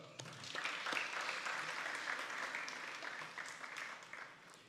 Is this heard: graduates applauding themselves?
yes